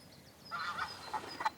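Geese honk in a short burst of several nasal calls, fairly close and moderately loud, overlapping one another with no talk around them.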